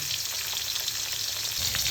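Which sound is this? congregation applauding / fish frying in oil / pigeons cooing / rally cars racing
fish frying in oil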